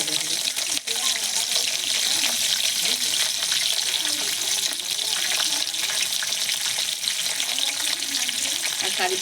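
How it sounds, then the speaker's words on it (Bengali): Curry leaves frying and sputtering in hot oil, a dense, loud crackle that runs unbroken throughout, nearby, with no voices. "এবার আমি কারি পাতাটা ভেজে নেব"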